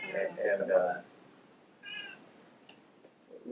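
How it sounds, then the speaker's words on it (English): An old cat, twenty years of age, gives a loud, wavering meow, then a second shorter cry a moment later, close by in a quiet room. "we have a 20-year-old cat that if you hear him"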